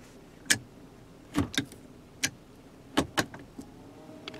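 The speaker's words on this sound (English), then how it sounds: "You can manually shift through 7 simulated gears like this" Gear shifter in a 2017 Nissan Murano clicking through its simulated gears, a series of sharp, close, fairly quiet clicks spaced irregularly, some in quick pairs, with no talk.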